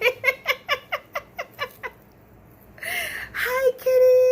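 Cats meow in a backyard, a quick series of about eight short repeated mews, then a longer drawn-out meow and a shorter cry, close and clear.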